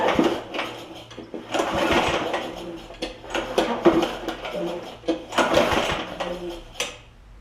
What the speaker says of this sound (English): I hear some sort of clanking in there